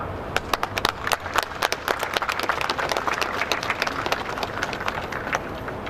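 Audience at a genocide commemoration gathering in an Ottawa conference room applauding the city, close, sharp individual claps merging into steady moderate applause throughout.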